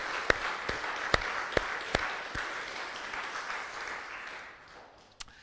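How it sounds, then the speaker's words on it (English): A small church congregation at Sunday worship claps in congratulation, a handful of sharp separate claps standing out over softer scattered applause that gradually fades, with one last clap near the end. "so let's give them a clap"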